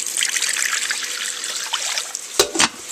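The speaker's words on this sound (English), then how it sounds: "Add some water, about a half a cup." Roughly half a cup of water poured into a crock pot while preparing scalloped potatoes and ham, a steady close trickle and splash followed near the end by a couple of sharp clinks.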